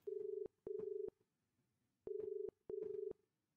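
Four electronic beep tones for an audio guest book phone message, each a steady pitched tone about half a second long, in two pairs separated by a short silence, clean and alone with no talk.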